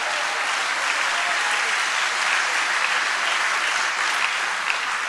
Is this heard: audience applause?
yes